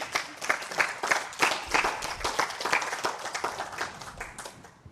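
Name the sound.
congregation applause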